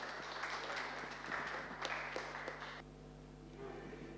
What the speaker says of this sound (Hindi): एक बार जोरदार तालियों के साथ हम दोनों का स्वागत करते हैं